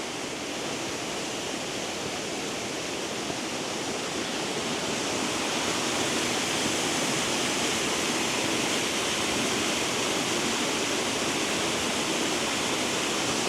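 Waterfall on the main trail at Glenariff Forest Park in Northern Ireland, a dense continuous rush of falling water, loud and unchanging throughout with no voices.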